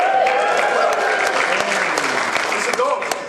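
Wedding guests break into loud cheering and applause during a best man's speech, with a dense crowd of clapping hands, whoops and excited voices that fade slightly toward the end.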